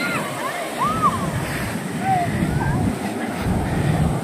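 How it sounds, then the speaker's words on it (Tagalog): Sea waves wash onto a beach at Camp Avenue, La Union, a loud, close, continuous surf roar with wind buffeting the microphone and people talking over it. "lalaki ng alon"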